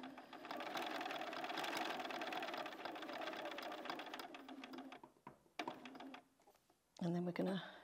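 A sewing machine stitches a cushion with a concealed zip and binding, running in a close, steady whir for about five seconds before breaking into a few short, choppy bursts.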